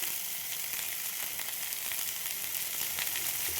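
Pieces of eggplant, carrot and pumpkin fry in hot oil, giving a soft, continuous, even sizzle heard close and alone throughout.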